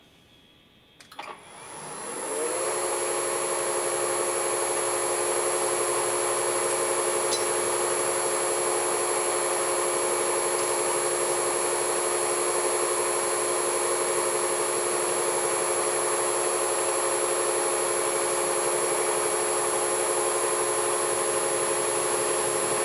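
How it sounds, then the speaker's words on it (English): A power drill boring through a cast iron cylinder head from a Chevy inline six, spinning up after a short clunk and then whining at a steady, unchanging pitch, close and continuous for the rest of the stretch. "So he's simply going to drill through the head."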